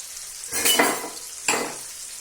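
Mackerel rubbed with chili frying in a pan, a soft steady sizzle with two louder bursts of stirring and spatula scraping against the pan, no voices.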